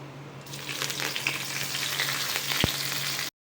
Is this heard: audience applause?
no